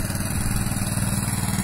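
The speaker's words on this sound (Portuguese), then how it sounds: "O barco vem chegando agora com os passageiros" A passenger boat's motor chugs steadily as the boat arrives on the Jaguaribe River in Ceará, Brazil, a close, even, throbbing engine hum with no voices.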